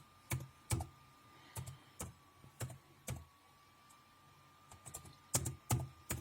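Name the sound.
typing on a computer keyboard into a search box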